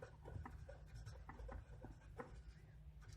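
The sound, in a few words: writing while explaining HTML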